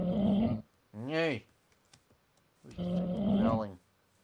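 A creature in the Minecraft Divine RPG mod growls in three separate bursts, one rising and falling in a warbling tone, each loud and close with short silences between.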